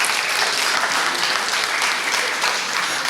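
A church congregation at a Sunday service bursts into loud, dense applause that carries on steadily throughout, with no voices over it.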